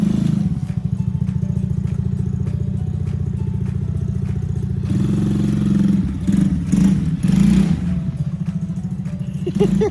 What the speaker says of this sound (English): he's riding his four-wheeler